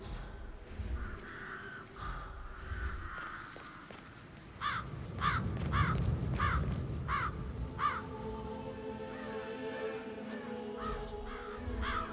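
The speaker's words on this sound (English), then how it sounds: "I'll never get rid of those stupid birds." Crows in Hitman 3 caw repeatedly in a steady run of harsh calls that stand out clearly over a low rumbling game ambience, with no talking.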